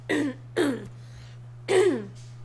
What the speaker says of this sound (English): I don't want you to hear me clear my throat.